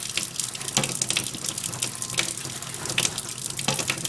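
Water runs from a tap and splashes while being added by the handful to raw lamb kibbee, a steady close-up stream with small irregular splashes and no talking.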